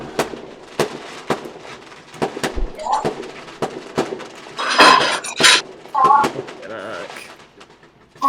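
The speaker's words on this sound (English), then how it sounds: "they own a fireworks shop and they just shoot fireworks all night every night" Fireworks on Bonfire Night go off in a rapid series of sharp cracks and pops, some near and loud, with whistling and crackling bursts midway and voices talking between them.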